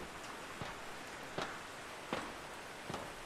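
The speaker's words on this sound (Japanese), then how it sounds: "はい、雨が来る。 すげえ土砂降り。" A heavy rain downpour in a horror game about walking down an emergency staircase makes a steady, even hiss, broken by soft, regularly spaced thuds like slow footsteps.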